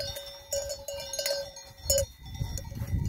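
Cowbells worn by cows grazing in Alpine mountain pasture, ringing in irregular clanks over about three seconds, with animal bleats and outdoor rumble mixed in.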